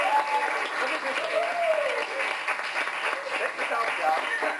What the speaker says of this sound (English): Another round of applause for the parents.